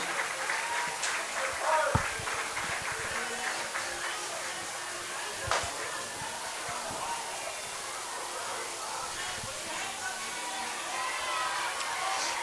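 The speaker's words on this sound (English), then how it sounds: "Let's have a round of applause for Nelson from the Warriors." Spectators at a high school football game between Prospect and Maine West applaud a Warriors player, a steady crowd clapping heard at moderate distance with occasional louder claps and some crowd murmur.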